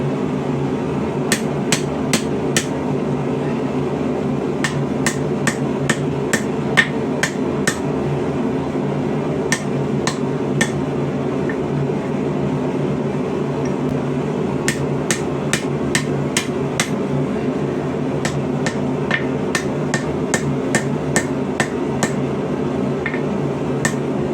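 Hammer blows forging a rebar scroll flat into a snail-shaped jelly roll on an anvil, sharp ringing strikes in quick bursts of several hits with short pauses, over a steady shop hum.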